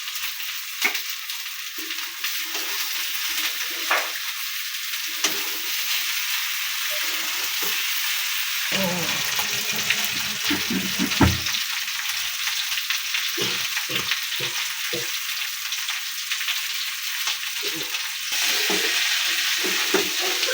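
Meat sizzles steadily in a hot pan for bhuna khichuri while a utensil stirs it, giving repeated scraping and clattering strokes over a constant frying hiss. Nobody speaks.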